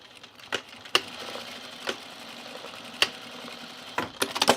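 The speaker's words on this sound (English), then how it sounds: "center it over your buttonhole and then stitch it down" A sewing machine stitches a pair of trousers, tacking a piece down over a buttonhole. It gives a steady low mechanical hum broken by sharp clicks about once a second, with a quicker cluster of clicks near the end.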